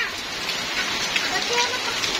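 Steady rain pours down on a rainy day, a dense continuous hiss of drops hitting surfaces close by, loud and unbroken throughout with no voices over it.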